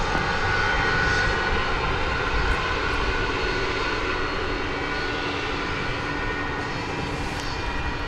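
An American Airlines jet takes off from runway 18 left at Dallas Fort Worth airport at night, a steady, loud engine roar filling the whole stretch and fading slightly toward the end.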